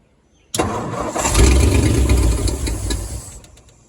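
A 1940 Ford Coupe hot rod, left sitting for over 20 years, cranks and catches after a silent pause, then roars up loud and close before settling toward a rough idle.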